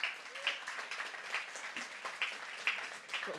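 Audience clapping at a science slam event, a steady patter of many hands applauding, moderately distant and fairly quiet, sustained across the whole moment.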